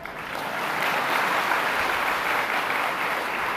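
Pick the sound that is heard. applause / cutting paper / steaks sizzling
applause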